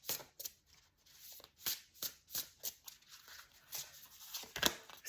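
Oracle cards riffled and shuffled by hand in a series of quick papery bursts, close and fairly quiet, with short pauses between shuffles and no talking.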